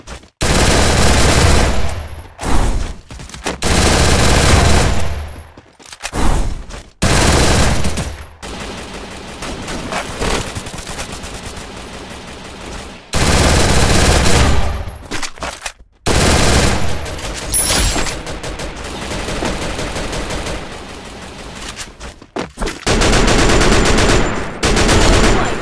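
Rapid automatic gunfire from a mobile battle royale shooter, loud bursts and sustained sprays with brief gaps between volleys, no talk.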